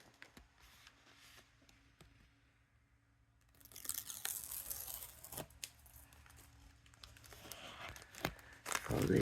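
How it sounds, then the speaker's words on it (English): Adhesive tape backing peeled from a piece of a Tonic craft kit, a close crinkly tearing and rustle that swells in the second half, with brief handling clicks and a voice nearby. "The tape comes off of here."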